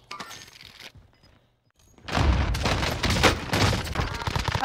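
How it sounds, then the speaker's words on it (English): Gunfire in a first-person shooter match, including shotgun blasts: after a near-silent pause, a dense barrage of loud, close shots and impacts erupts and keeps going, with crashing and breaking sounds mixed in. "Of course you have a fucking shotgun."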